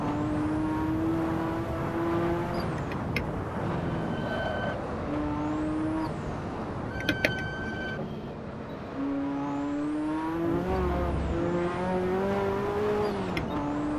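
A racing car engine in the Assetto Corsa video game on PS5, played with a Thrustmaster TH8S manual shifter, revs loudly and steadily, its pitch sliding down through gear changes as engine braking slows the car, with no talking.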